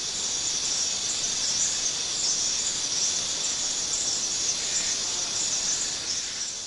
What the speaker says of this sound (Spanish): seguir una bandada de grillos que les sirva de despensa ambulante